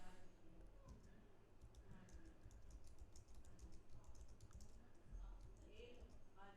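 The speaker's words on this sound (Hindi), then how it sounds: "इसको दरअसल मैं कोई मल्टीपल टाइम्स टाइप कर देता हूँ" Steady typing on a computer keyboard, with rapid, close key clicks running continuously under a faint low background hum.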